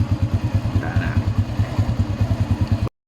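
A 2006 Honda Wave 100 motorcycle engine runs at a steady idle, loud and close, with a rapid even chug that cuts off abruptly at the end.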